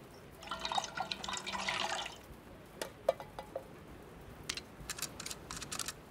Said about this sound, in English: I can pour in the fuel now